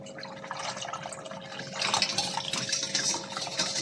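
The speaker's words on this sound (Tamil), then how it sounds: "இதில் இன்னும் தண்ணி ஊற்றிக்கிறேன்." Water pouring steadily into a container for a drink with sugar, a broad splashing rush that swells louder halfway through and continues to the end.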